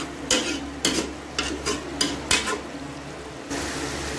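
Gosht karahi being stirred in a pan, a series of about six scraping stir strokes over a soft background sizzle, close and clear, followed by a steadier sizzle, with no voices.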